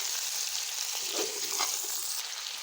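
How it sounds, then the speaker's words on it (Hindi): Chicken frying with ginger in a karahi, a steady close sizzle that holds throughout with a few brief scrapes as the pieces are turned. "1 केजी चिकन हम इसमें ऐड करेंगे। इसको हम भूनेंगे"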